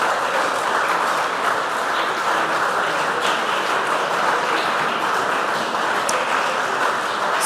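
A crowd at a junior high school quiz competition applauds the contestants, with continuous dense clapping that holds at a steady, loud level throughout.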